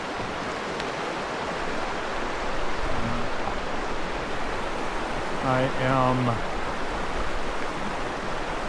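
A creek near a trail in Tuolumne Meadows flows with a constant broad rush of water, close and steady, while a person briefly speaks over it.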